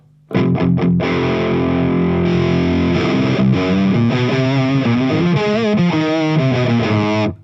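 A loud distorted electric guitar through a Mesa/Boogie Dual Rectifier Multi-Watt tube amp plays crunchy metal chords and riffs, thick and saturated with amp grit, ringing on without any talking.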